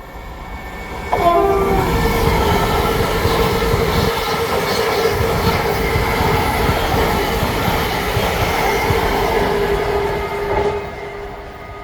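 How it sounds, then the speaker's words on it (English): Passing train, unit 720, at Meridian Water gives a loud, sustained horn blast near the start, over a steady roar of rolling wheels and carriages that lasts throughout with no talk. "720 720 just honked up his horn."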